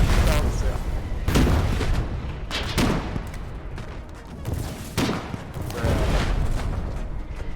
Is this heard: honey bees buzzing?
no